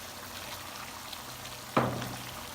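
Ghee poured into a pot of beef korma lands with a sudden sizzling splash over faint kitchen background, then fades quickly.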